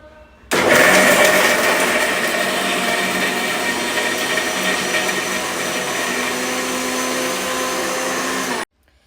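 A mixer grinder whirs loudly and steadily as it grinds masala in a mixie jar, a dense high-pitched motor roar that starts abruptly, holds for about eight seconds, then cuts off.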